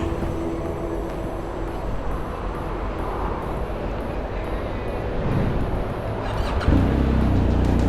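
A BMW R1250GS motorcycle with about 50,000 km on it and fresh front and rear brake pads rides along a road, its engine a steady loud drone mixed with heavy wind rush, swelling slightly near the end.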